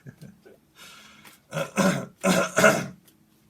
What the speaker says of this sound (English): Oh, clear your throat